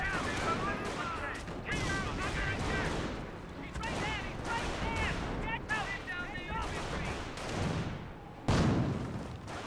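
Artillery and mortar fire in Company of Heroes, with scattered explosions and gunfire bursts under nearly constant commentator talk, ending in one louder, close blast.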